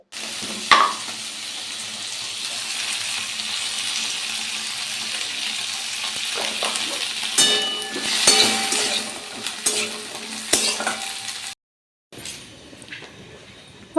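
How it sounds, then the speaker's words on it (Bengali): Beans fry in oil with salt and turmeric on a freshly built clay stove in an outdoor courtyard, a steady moderate sizzle with occasional clatter and stirring, briefly dropping out near the end. "বিমস গুলো তোমার এখন নুন হলুদ দিয়ে একটু ভাজা ভাজা হতে দিই"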